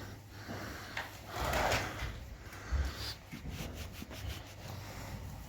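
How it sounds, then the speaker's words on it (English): A door swings open into a farm calf building, giving a brief wooden rub and scrape up close, followed by soft shuffling and a low thud in a quiet barn. "So just coming through the door, don't make too much noise"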